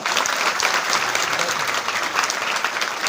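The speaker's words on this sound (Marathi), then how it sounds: "स्वतःच्या भाग्यासाठी एकदा टाळ्या वाजवत" A seated crowd claps continuously and loudly throughout at a devotional Swami Samarth gathering in Shirala, with dense, evenly spread applause and no pauses.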